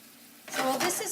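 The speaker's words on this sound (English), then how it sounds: "our shallots are all done sauteing. They're still sizzling, you can hear it" Shallots sizzling in a pan as they finish sauteing, a quiet hum that gives way to a bright, steady frying crackle, fairly close and continuous.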